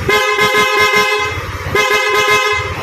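A PIAA dual horn on an Aerox 155 scooter-style motorcycle blares loud and close in two long, bright honks, with a brief gap between them.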